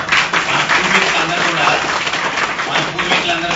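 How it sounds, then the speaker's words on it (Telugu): An audience clapping along, rhythmic hand claps mixed with voices, fairly loud and close throughout the short stretch. "అందుకని అది బాగా కొట్టుకోవాలంటే ఇక్కడ మనం చప్పట్లు కొట్టాలి"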